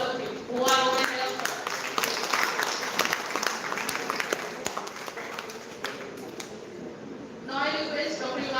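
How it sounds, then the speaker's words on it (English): An audience at a college career expo and campus placement fair claps, broad applause swelling in near the start, thinning out, then rising again at the end, with voices and crowd noise mixed in beneath. "A big round of applause for all of you who are over here."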